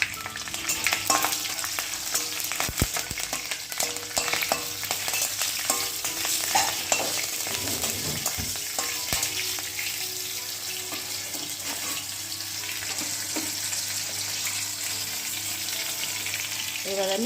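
Panch phoron spices with dried and green chilies frying in hot oil, a loud dense sizzle with crackling and scraping stirs throughout, no voices.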